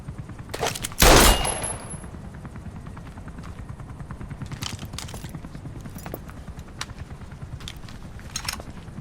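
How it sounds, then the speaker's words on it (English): Automatic weapon fire in Metal Gear Solid V: The Phantom Pain: one loud, close burst near the start, followed by sparse, quieter shots and clicks over a low, steady background rumble. "That's an automatic."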